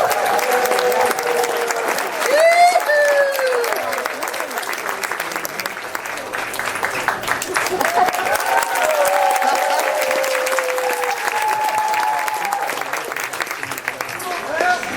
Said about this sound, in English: please keep that applause going as we bring to the stage the ukulele masters